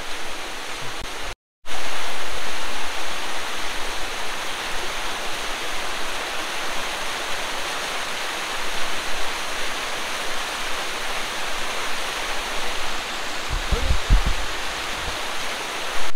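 A glacier meltwater stream in the Valley of Flowers, Uttarakhand, rushes steadily and fairly loudly while a water bottle is being filled, with a brief break near the start and a few low knocks toward the end.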